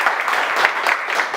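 An audience at a book presentation for Editorial Isla Negra claps warmly for author Irán Lozada, a loud, dense burst of applause with rhythmic swells and no voices over it.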